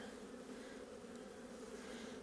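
Honey bees drone steadily around an open hive during a January inspection, a continuous, even buzz heard close up with no voices.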